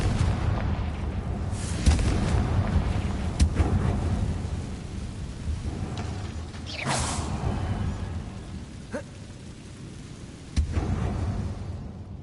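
Confringo explosive spell going off in the game Hogwarts Legacy: a few deep, rumbling booms over a steady low roar, with sharp cracking bursts near 2, 7 and 10.5 seconds and no talking.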